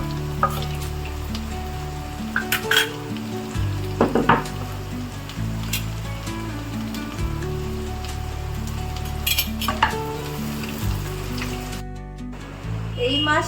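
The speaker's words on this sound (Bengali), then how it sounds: "এবারে আমি পেঁয়াজ কুচিটা দিয়ে দেবো।" Chopped onion added to a pan of potatoes already fried until reddish, sizzling and crackling steadily through the clip beneath a steady musical background, with occasional sharper pops.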